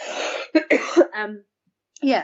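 A few short, raspy coughs and throat clearings come close to the microphone in a quick cluster, followed by a brief pause and a vocal sound.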